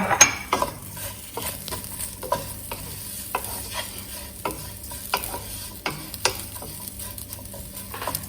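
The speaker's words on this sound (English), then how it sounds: "I'm going to add my ginger now too" Ginger frying in a pan with oil for a vegan dish, a quiet steady sizzle punctuated by regular spoon scrapes and taps against the pan.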